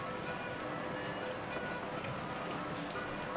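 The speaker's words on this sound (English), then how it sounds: "I figure I'll mosey out there once the rain lets up." Steady rain falls in the video game Shadows over Loathing, a dense, even patter with faint crackle and occasional brighter drops, continuous and moderately quiet for a few seconds.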